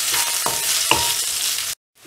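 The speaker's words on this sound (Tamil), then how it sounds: "உப்பு ஆட் பண்ணிவிட்டு இதை நல்லா வதக்கி விடுங்க." Onions with salt sautéing in a pan for a mushroom cashew gravy, a steady close sizzle broken by a few stirring scrapes, then cutting out abruptly before a brief return of sound.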